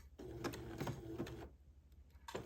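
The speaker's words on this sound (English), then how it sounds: "now maybe I can do the rest with machine sewing" A sewing machine stitches fabric slowly in short bursts, one run of about a second and a half, a pause, then a fresh start, faint and close.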